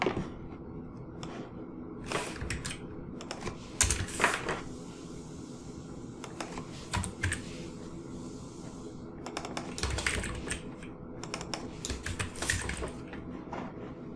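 Code examples typed on a computer keyboard, irregular bursts of close clicking keystrokes separated by short pauses, fairly quiet and without any talk.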